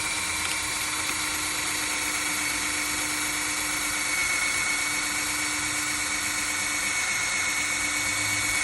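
A power drill runs steadily while drilling a pocket hole, giving a continuous high whine with no pauses throughout.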